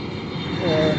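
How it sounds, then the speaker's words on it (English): A propeller airplane drones steadily overhead, a continuous rumbling engine noise that swells slightly toward the end, heard from an outdoor backyard setting. "Sorry about the plane noise."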